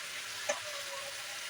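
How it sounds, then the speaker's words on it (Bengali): Sliced ridge gourd with turmeric, salt and a little sugar fries in a pan, giving a faint, steady sizzle with one small click partway through. "এটা একটু ভাজা হয়ে জলটা বেরিয়ে যাক"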